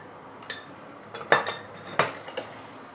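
Beehoon rice vermicelli is stir-fried in a wok, and a utensil gives a few bright metallic clinks and scrapes against the metal at uneven intervals. The sounds are close, over a quiet background, and no one speaks.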